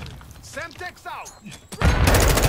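A Semtex explosive goes off in a video game as a sudden loud blast with rumbling, crackling aftermath, right after a voice speaks.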